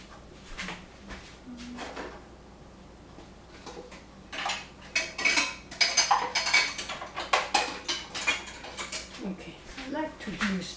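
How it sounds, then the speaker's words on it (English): Ceramic spoons clink and clatter against kitchen dishes while yogurt is being made. The light, scattered knocks grow busier toward the end, and a voice is heard at times. "I'm playing with ceramic spoons"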